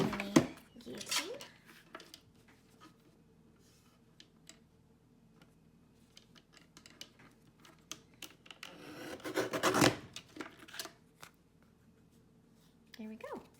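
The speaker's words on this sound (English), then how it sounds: "I can just trim that down. And I have a mini guillotine" A mini guillotine paper trimmer slices a slightly oversized card: a scraping cut near the start and a louder, longer rasp of the blade toward the end, with quiet paper rustles and light ticks between.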